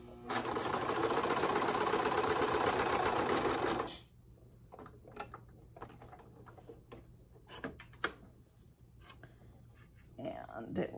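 A serger sewing machine whirs loudly and steadily at close range for about four seconds, then stops, leaving only scattered quiet clicks and taps of handling until a soft noise rises at the end.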